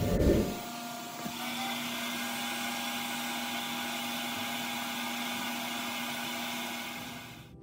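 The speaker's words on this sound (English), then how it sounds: "this is my vacuum forming machine that I made from an old toaster I got at a thrift store" A homemade vacuum forming machine built from an old toaster switches on with a brief thud, then gives off a steady, loud whirring drone that holds even for several seconds before cutting off at the end.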